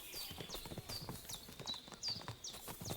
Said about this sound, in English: Did I hear my horse back here? I do.